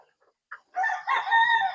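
After a short silence, a chicken lets out a brief cluck and then a loud, drawn-out crow, close and clear with no other sounds.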